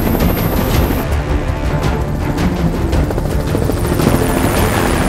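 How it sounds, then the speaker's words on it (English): A helicopter roars steadily and loudly throughout, its rotor thrum and engine noise filling the whole clip with no voices. "here comes a helicopter"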